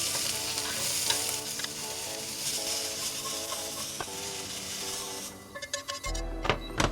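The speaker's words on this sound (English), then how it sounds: "We're gonna throw in the onions and the celery. Constantly stir these while you're cooking them." Onions and celery stir-fry in a hot pan for chicken chow mein, a loud continuous sizzle with constant stirring scrapes, ending in a few knocks and clatters of the pan.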